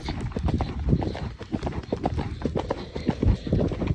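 A horse canters on a ride, its hooves clip-clopping in a quick, uneven rhythm up close, with occasional soft snorts over a steady outdoor background.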